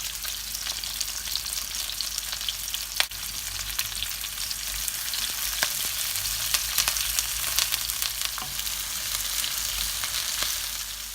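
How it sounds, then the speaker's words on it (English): Onions, green chilies and fresh curry leaves fry in hot oil with popping mustard seeds for a South Indian chicken curry, giving a close, steady sizzle with frequent sharp crackles and pops and no talking. "as the mustard seeds start to pop, in goes the onions and green chilies and the fresh curry leaves"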